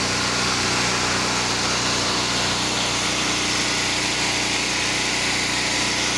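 A pressure washer's engine drones continuously while rinsing a house, a loud, steady, unbroken hiss and motor hum at close range with no pauses.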